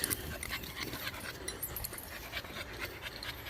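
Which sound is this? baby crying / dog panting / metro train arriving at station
dog panting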